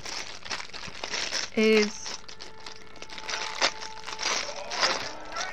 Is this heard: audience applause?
no